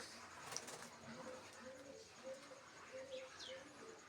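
Pigeons in a loft, including an older yellow-eyed bird and its young, coo faintly in a steady, repeated low rhythm against background hiss, with a few brief higher chirps.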